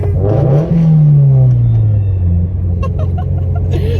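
Turbocharged Subaru BRZ fitted with a Tomei 80R exhaust revs hard up close, a loud rising and falling engine howl followed by crackling pops as it settles back down.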